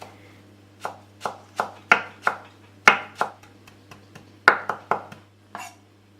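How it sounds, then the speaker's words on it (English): A knife chops fresh cilantro and parsley on a cutting board while preparing Moroccan zaalouk eggplant dip, giving a series of sharp, close thuds in an irregular rhythm over a low steady hum. "now we're going to chop some herbs, some cilantro, and some parsley to add freshness."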